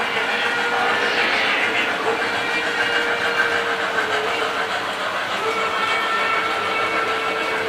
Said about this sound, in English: I think that's the whistle, but then those are the pop-off valves.